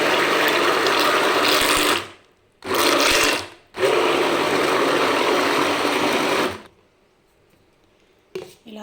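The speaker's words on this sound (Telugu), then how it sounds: "ఇప్పుడు ఒక బ్లెండర్తో ఈ పాల మిశ్రమము, ఈ మ్యాంగో ప్యూరీ మొత్తం అంతా బాగా కలిసేలాగా బ్లెండ్ చేసుకోవాలి." A hand blender whirs loudly while mixing milk with mango puree for homemade mango ice cream, running in three bursts, a short one, a brief one, then a longer run of about three seconds, with pauses between and no talking.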